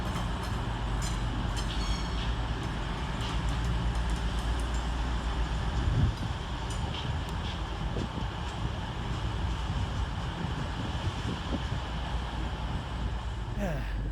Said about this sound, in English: We're here at London St Pancras International Railway Station